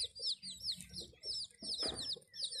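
Backyard village chickens, hens and small chicks scratching for food at a home flock in Khun Han, Sisaket, Thailand, give soft repeated clucks and chirps, with a louder rustling burst midway.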